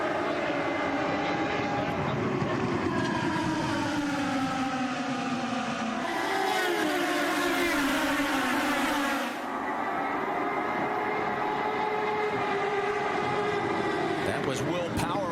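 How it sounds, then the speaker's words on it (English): IndyCar race cars roar up to speed at a green flag restart, a loud sustained engine howl with rising and shifting pitch that swells as the pack passes, with broadcast commentary talking over it. "Green flag racing, pace cars off, they're bringing them up to speed."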